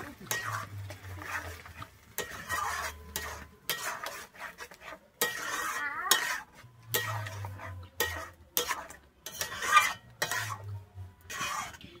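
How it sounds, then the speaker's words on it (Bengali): Ground spinach being stirred into masala in a pan for palak paneer brings repeated scraping and clinking of a spoon against metal with a light sizzle, in bursts between stretches of someone talking. "পালং শাকটা কিন্তু খুব ভালোভাবে মশলার সঙ্গে মিশিয়ে নেব"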